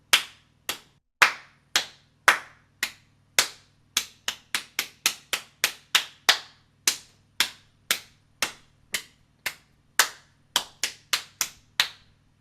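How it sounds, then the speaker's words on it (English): A single person claps a rhythm by ear, producing sharp, distinct claps in uneven phrases of short and longer gaps, close and clear over a quiet hum. "Well, I'll try clapping."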